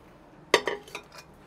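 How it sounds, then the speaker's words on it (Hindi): A pressure cooker set down for mutton yakhni, with metal pots and pans clinking: a sharp clatter followed by a few lighter metallic clinks that fade over about a second, close and fairly quiet, with no talk. "तो यखनी के लिए हमने एक कुकर ले लिया है"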